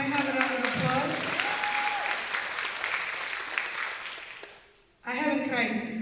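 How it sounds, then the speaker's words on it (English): Audience at a community event applauds steadily as a crowd, the clapping fading out before a voice resumes speaking. "can I have a round of applause?"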